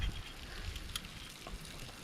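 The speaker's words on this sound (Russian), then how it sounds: "Ух! Какой звук. Огонь!" Fire burning under fish grilled on coals outdoors, a soft continuous hiss and rush with a few faint crackles, no talking.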